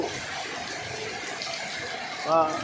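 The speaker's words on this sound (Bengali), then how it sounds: "মুষলধারে বৃষ্টি হচ্ছে।" Heavy night-time downpour in Tanore, a steady broad rushing roar of rain that carries on throughout at moderate loudness, with a voice briefly speaking near the end.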